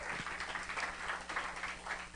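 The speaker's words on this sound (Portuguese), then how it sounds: "Quem pode aplaudir ao Senhor por isso?" Church congregation applauding, a faint, steady patter of many hands clapping, distant and continuous, with no talk over it.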